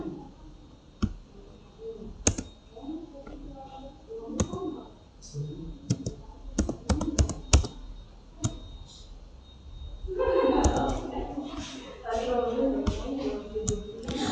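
Computer keyboard typing while entering a spreadsheet formula: scattered sharp clicks and taps in uneven bursts, with a denser patch of keystrokes near the end, heard under a speaking voice.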